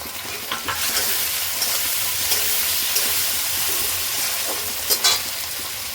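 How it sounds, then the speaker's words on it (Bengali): Onion and added tomato frying in a pan for palak paneer, a loud steady sizzle with occasional stirring scrapes, no talk. "হালকা ভেজে নিয়েছি, দিয়ে দিচ্ছি টমেটো"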